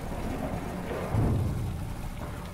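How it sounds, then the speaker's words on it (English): Water pours and rushes in steadily in a video game, a continuous churning flow with a brief heavier surge in the middle. "at first I heard the water coming in and I was worried"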